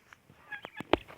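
A few short, harsh guinea fowl calls ring out in quick succession at morning feeding, the last one loudest and closest.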